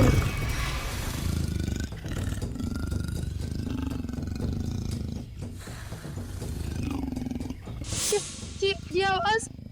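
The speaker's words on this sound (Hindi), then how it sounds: "तेंदुए के गुर्राने की आवाज है।" Low growling of a leopard, rumbling snarls with a rough, throaty texture rising and falling over several seconds, then higher strained cries near the end, fairly close and loud.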